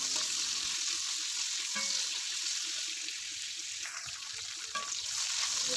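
Dried chili, garlic and chopped onion frying in hot oil for a bottle gourd leaf dish, a continuous loud sizzle with a few stirring scrapes, no talk.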